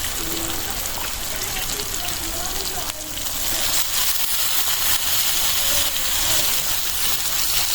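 River shrimp fry in a thick spice paste in a pan, making a loud, dense, continuous sizzle up close, with a voice faintly audible beneath it.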